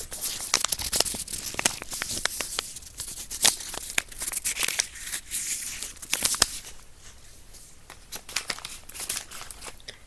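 Soft paper tea packaging is crinkled and torn close up, giving a steady run of dense, sharp crackles and ripping bursts at low volume, with no talking.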